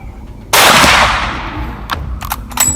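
Gunshot fired at wild boar during a hunt outdoors: one loud, close crack with a long fading echo, followed by a few smaller distant pops.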